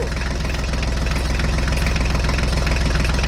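A mini tractor's engine running as it drives along, a loud, close, steady chugging with an even rhythmic pulse throughout and no talking.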